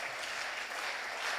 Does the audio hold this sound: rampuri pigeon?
no